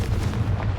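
Confringo, an explosive spell cast in Hogwarts Legacy, lands as a heavy booming burst with deep rumbling low end, loud and close, over less than a second.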